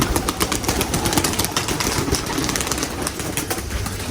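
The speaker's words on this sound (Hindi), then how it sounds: "सारे कबूतर डिस्टर्ब हो गए हैं।" Dense rustling and flapping of pigeon wings, busy and continuous, with a low engine hum in the background.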